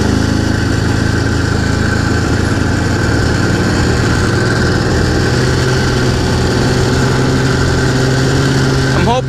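A cold Arctic Cat Jag 440 AFS Special snowmobile engine idles close by with a steady, even rumble that holds throughout.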